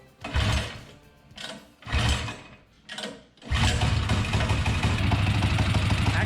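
A small engine fitted with a Tillotson 263 28mm flat-slide carburetor: three short bursts as it catches and dies, then from about three and a half seconds it fires up and runs steadily and loudly, close by.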